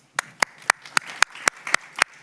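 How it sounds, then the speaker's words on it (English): Applause from a conference audience welcoming a panel speaker at a women, peace and security forum, heard as a run of sharp, evenly spaced claps, fairly close and alone. "round of applause"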